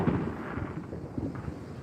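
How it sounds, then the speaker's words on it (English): A string of distant, muffled booms and crackles from fireworks going off over Las Vegas, irregular low thumps heard from afar with no voices. "That was obviously a firework."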